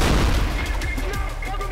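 Dense, close gunfire and booming grenade explosions rumble through a firefight in the shooter game Trepang2, blasts overlapping into a continuous loud barrage.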